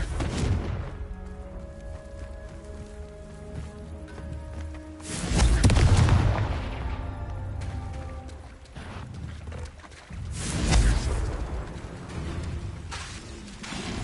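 Confringo blasting spell explosions in the Hogwarts Legacy video game: two heavy booms a few seconds apart over steady game ambience and music, close and full.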